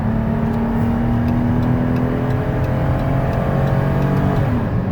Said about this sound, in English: Good acceleration, popped it up to about 70.